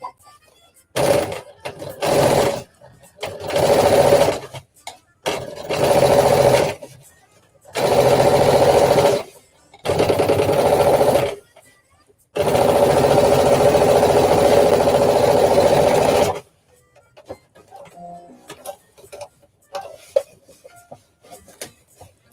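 A sewing machine stitches a seam on a flared dress with added side panels, running in six bursts of steady whirring that grow longer, the last lasting about four seconds, followed by quiet handling sounds.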